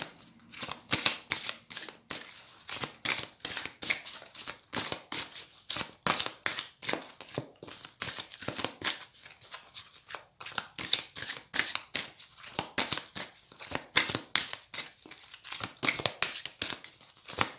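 Tarot cards shuffled by hand for a Capricorn reading, a close, continuous run of quick papery riffles and slaps in a fast, uneven rhythm, with no voices over it.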